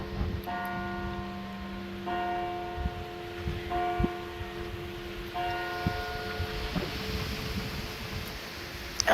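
Church bells ring inside the old church at Cardinham, a few separate peals sounding fairly faint in a quiet, airy space, each strike followed by a lingering hum.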